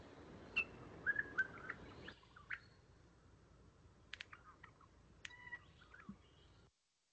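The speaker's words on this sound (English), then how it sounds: "is a regent honeyeater from the Blue Mountains where most of the wild birds are persisting" A wild regent honeyeater from the Blue Mountains sings in a field recording: faint, scattered chirps and metallic bell-like notes in short bursts over a soft background hiss, ending in abrupt silence.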